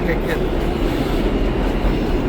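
A steady, heavy rumble of a New York subway train in a multi-level station, continuous and loud throughout, with a faint high squeal near the start.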